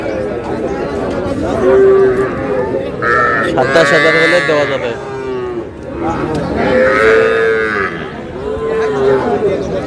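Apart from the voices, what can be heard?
bull calves mooing at a cattle market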